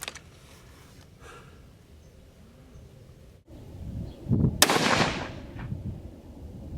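A Thompson Center Dimension rifle fires one loud outdoor shot that booms close and sharp, then its report fades, with quiet ambient noise before it.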